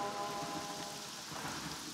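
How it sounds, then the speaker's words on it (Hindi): Heavy rain pours steadily with thunder in the background, a soft, even hiss of falling water with no voices. "क्यों, बारिश में भीगने की आदत नहीं गई क्या?"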